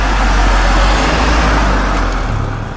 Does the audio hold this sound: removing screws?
no